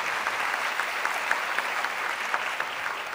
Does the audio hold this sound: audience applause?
yes